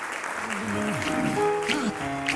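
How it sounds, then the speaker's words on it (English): A crowd applauds debate guests as they are called up on stage at a live crowdfunding event, a dense continuous wash of clapping under music with sung tones, fairly loud throughout. "can you give them a warm round of applause?"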